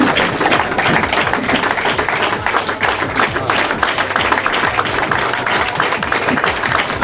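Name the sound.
crowd applause welcoming zonal chief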